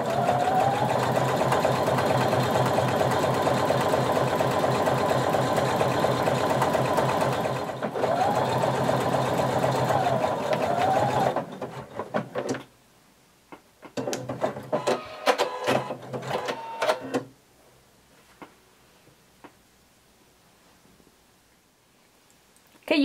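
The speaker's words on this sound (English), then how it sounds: "put this under your sewing machine and using your zigzag narrow stretch stitch, you're going to sew 5/8 of an inch seam allowance" A sewing machine runs a narrow zigzag stretch stitch along a seam through swimsuit fabric, humming loud and steady for about eleven seconds, then stopping and restarting in short bursts before falling quiet.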